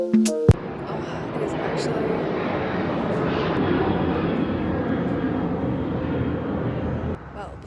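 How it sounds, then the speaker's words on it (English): A fixed-wing airplane passes overhead on a clear day, its broad engine roar steady and loud across the whole stretch before cutting off near the end. "Before that plane rudely interrupted me"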